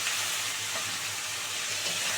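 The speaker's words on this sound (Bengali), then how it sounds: "আলু মোটামুটি ভাজা হয়ে গেছে, এবারে এই যে ভাপানো কচুগুলো দিয়ে দিচ্ছি" Potatoes and steamed taro frying in oil in a pan give a steady, close, loud sizzle with soft stirring, continuous and without talk.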